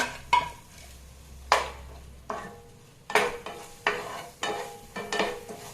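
Crushed onion, green chili, pepper and cumin go into a pan for a sardine curry. Short bursts of sizzling and stirring scrapes come at irregular moments, with quieter gaps between them.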